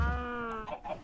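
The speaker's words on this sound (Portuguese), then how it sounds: "Só algumas galinhas ficaram aqui." Chickens in the video game Minecraft cluck close up, one drawn-out tonal squawk followed by a couple of short clucks, loud and clear with no talk over them.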